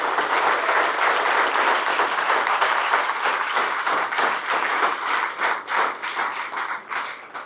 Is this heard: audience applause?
yes